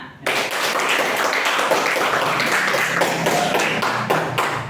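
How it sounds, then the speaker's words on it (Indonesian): A classroom of students claps their hands after a group presentation, a dense, steady patter of many hands close by that fills the room and carries on without a break. "Tepuk tangan dulu, Nak."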